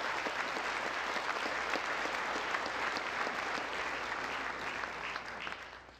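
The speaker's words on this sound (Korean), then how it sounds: "다시 한번 뜨거운 박수 부탁드리겠습니다." A large audience at a national prayer breakfast in South Korea gives warm, sustained applause, a dense even roar of clapping that holds steady and then tapers off near the end.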